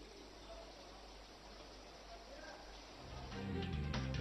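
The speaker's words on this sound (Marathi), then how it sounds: "नदी में पाणीनो धसमसतो प्रवाह जोवा मळ्यो छे" Rushing floodwater from a river swollen by heavy monsoon rain in Saurashtra, Gujarat, makes a steady broadband roar that grows louder and fuller in the last second, with faint voices mixed in.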